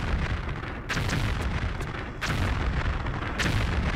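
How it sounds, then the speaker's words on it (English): A vent exploding in Tomb Raider Chronicles, heard as loud, booming blasts that repeat at roughly one-second intervals over a rumbling, continuous roar. "We get it, it's exploded!"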